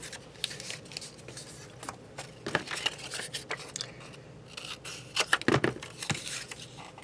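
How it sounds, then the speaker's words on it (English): Scissors cut a strip of paper while making an envelope junk journal page, a few quiet crisp snips and rustles of paper spread across the stretch, close and faint with no voices. "So I'm going to cut off right here."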